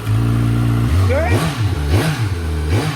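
A small, buzzy engine revs up and down in repeated surges on a dyno, loud and close, with a raspy, tinny note from a cheap $30 aftermarket exhaust and people talking over it.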